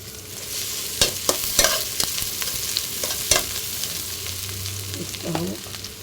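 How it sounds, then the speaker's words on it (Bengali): Onions dropped into hot oil crackle and sizzle, punctuated by several sharp clanks and scrapes of a spatula against the pan over a continuous low frying hiss. "তেলটা গরম হয়ে গিয়েছে, পেঁয়াজ দিয়ে দেবো।"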